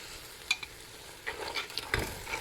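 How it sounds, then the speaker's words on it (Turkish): Dried beans tipped into a pan of tomato paste that has been sautéed, giving faint scattered sizzles and stirring clatters in short bursts, with no talking. "Salçamızı da biraz kavurduktan sonra kuru fasulyemizi ekleyelim."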